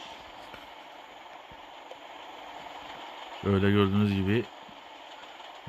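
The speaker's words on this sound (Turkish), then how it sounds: "Nasıl bir yolsa artık üst üste ikinci tren." In the mobile game Truck Simulator Ultimate, a train sounds a loud, tonal horn blast lasting about a second over low background rumble, while someone talks in Turkish throughout.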